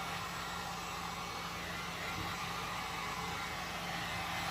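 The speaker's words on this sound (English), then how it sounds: "I'll hit it again with the heat gun so it melts." A heat gun blowing steadily over setting resin on a tequila bottle, a continuous loud airy roar with a faint electrical hum, unbroken for the whole stretch.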